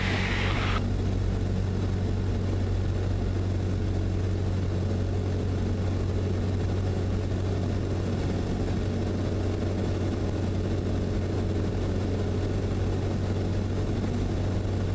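Cessna light aircraft on landing approach with flaps extended, its piston engine a steady, loud cabin drone with a deep low hum throughout, plus a brief brighter hiss at the very start.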